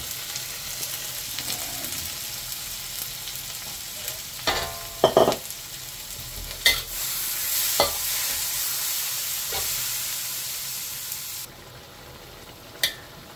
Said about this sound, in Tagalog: Sangkutsahin lang natin ito.